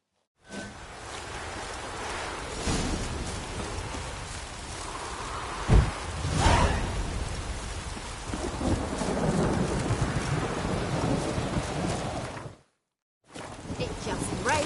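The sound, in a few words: rain and thunder from a video game, The Witcher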